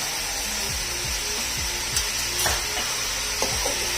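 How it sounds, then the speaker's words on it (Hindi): Chicken frying in a pan with ginger-garlic paste for chicken biryani, a steady close sizzle broken by repeated scraping stirs at a regular rhythm. "इसको गोल्डन कलर आने तक मैं फ्राई करूंगी"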